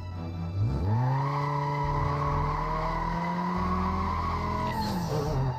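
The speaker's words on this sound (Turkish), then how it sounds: "Oğlum ön teker yakıyor." Front tyres spinning and squealing in Need for Speed Most Wanted with a Redux mod, a loud sustained tyre screech with rising engine tone that holds steadily for several seconds before cutting off.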